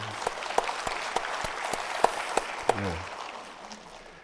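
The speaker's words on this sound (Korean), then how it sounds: "우리 다 함께 격려와 축하의 박수를 같이 보냈으면 좋겠습니다." Council members at a provincial assembly plenary session give a short round of sparse applause, distinct claps scattered through a quiet hall before fading out.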